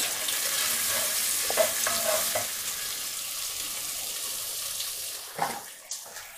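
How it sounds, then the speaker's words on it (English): Onion fries and is stirred in a pan with softening pie ingredients, a steady close sizzle broken by a few spoon scrapes and clinks. The hiss eases off toward the end. "we're now going to add our onion"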